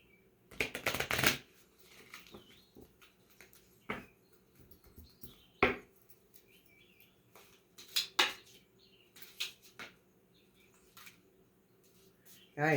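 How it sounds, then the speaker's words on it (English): A deck of angel message cards is shuffled indoors, giving bursts of papery riffling and tapping in irregular clusters with quiet gaps between them. "Gave myself a challenge with the shuffling."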